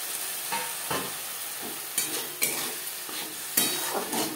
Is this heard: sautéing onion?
yes